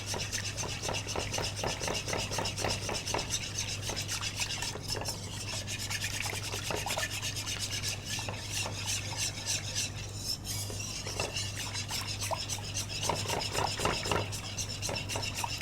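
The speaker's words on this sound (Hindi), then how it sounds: "विस्क के थ्रू आपने इसको अच्छा सा मिक्स" A whisk beats yogurt into a vegetable curry mixture with a fast, continuous rubbing and clicking rhythm against the bowl, fairly quiet and close over a low steady hum.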